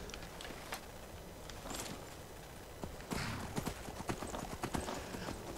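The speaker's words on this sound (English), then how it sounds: "Oh, there's a horse!" Horse hooves clip-clop in Skyrim, a faint uneven run of hoofbeats that grows denser and more distinct in the second half, with no voices over it.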